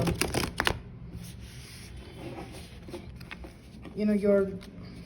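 Tarot cards are shuffled with a brisk riffling rasp at the start, followed by softer rubbing and side-shuffling sounds, then a short burst of handling noise.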